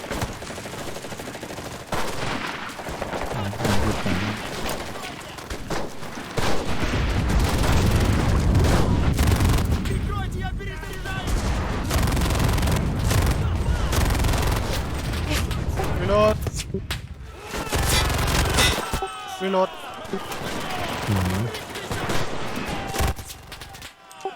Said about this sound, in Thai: โอ้โหโซเวียตซับมาชินกันโกงมากอะ